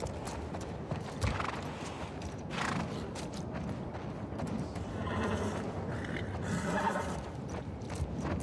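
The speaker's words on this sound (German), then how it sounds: "Die Pferde sind ganz schön nervös und aufgeregt." Nervous, agitated horses in the video game The Last of Us Part II whinny and neigh while hooves stamp and clop irregularly, fairly close, with steady ambient background noise throughout.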